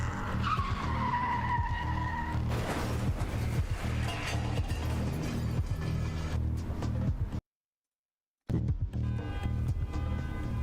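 A car in a video game skids with screeching tires over rumbling engine noise and crashes, loud and continuous, then cuts to a second of silence before the din resumes.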